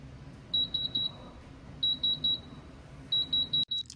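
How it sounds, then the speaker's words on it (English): A thermal bookbinding machine gives three quick series of high electronic beeps, each about four pips long, evenly spaced over a quiet hum, ending with a soft click. "The machine will beep when it's finished."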